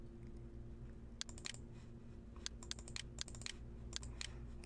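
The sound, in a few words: typing on a computer keyboard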